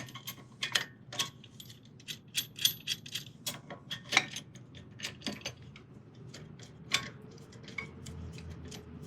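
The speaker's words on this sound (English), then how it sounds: "Compress our caliper." Metallic clicks, clanks and rattles of tools and hardware while a brake caliper on a Jeep Wrangler is compressed during a brake pad change, irregular sharp close knocks spread across the stretch, no talk.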